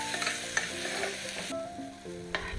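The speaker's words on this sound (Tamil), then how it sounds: "கட் பண்ணி வச்சிருக்க தக்காளியும் சேர்த்து வதக்கிக்கோங்க." Chopped tomatoes sauté with onions in a pan for baby food, stirred repeatedly with scraping strokes over a constant close sizzle and no voices.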